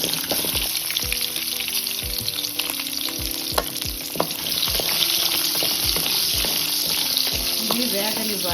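A quarter kilo of small onions and tempering seeds fry in a little oil in a kadai for village-style sambar, giving a steady close sizzle broken by repeated scraping stirs, with no talking.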